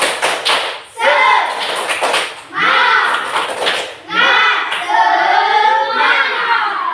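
A standing class does a rhythmic 'tepuk semangat' clapping routine, bursts of claps landing in patterned groups amid loud, chant-like group voices, repeated in several rounds.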